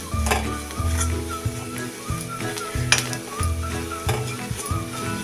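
Rice flour with added sugar and other ingredients roasting in a pan, a loud close sizzle with rhythmic scraping strokes of the spoon repeating about every half second, no voices.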